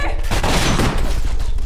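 A short burst of gunfire from an anime battle scene, a dense crackling volley that fills the moment before tapering, with no speech over it.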